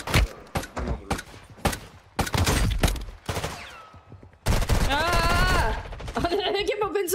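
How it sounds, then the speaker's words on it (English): Rapid pistol fire from dual-wielded akimbo handguns in a first-person shooter, a dense burst of loud repeated shots mixed with game effects and a voice talking over the action. "Let's try some akimbo pistol shot."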